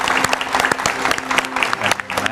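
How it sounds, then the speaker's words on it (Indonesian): A television studio audience applauds the guests of an Indonesian political talk show: brisk, crisp clapping at a fairly close, even level with a faint steady hum underneath. "Tepuk tangan yang meriah untuk narasumber saya pada malam hari ini."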